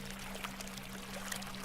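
Water pouring steadily from backed-up household plumbing in a video game, a soft continuous gush over a low electrical hum, faint and unchanging throughout.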